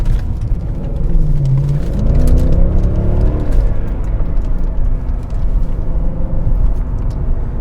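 A 2008 Mercedes E63 AMG engine pulls hard from inside the cabin, a loud continuous rumble with brief rising revs early on over steady road noise, no speech.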